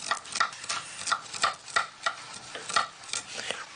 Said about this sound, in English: Now I trimmed the cheese, and I'm going to cut it into